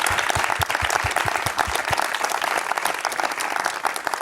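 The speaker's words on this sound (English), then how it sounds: "let's give a round of applause to Freddie, Brandon, and Joe for coming out" An audience at an evening creator event claps in sustained applause, dense and lively, with a few louder nearby claps early on before settling into an even, continuous roar of hands.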